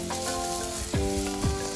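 Chopped onion and dried oregano sizzle steadily in a hot pan. Two or three distinct scraping sweeps of a stirring utensil cut through the constant close frying crackle, and no voices are heard.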